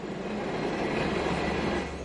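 A Bodensee-Toggenburg Railway RE 4/4 three-phase electric locomotive from the late 1980s passes with a steady, fairly close rolling roar of wheels and motors that stays even throughout, with no voices.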